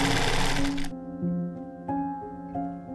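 Sewing machine running steadily for a moment, then stopping and starting in short bursts while stitching bias tape around the hem of a tulle skirt for an ice-effect dress; close and fairly loud with no talking.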